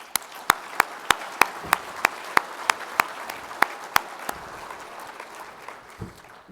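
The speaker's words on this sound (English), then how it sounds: "Let's give our sponsors a round of applause." Audience at an evening real estate challenge event applauds the sponsors; sharp, evenly spaced claps ring out prominently for about four seconds over a softer crowd wash that thins toward the end.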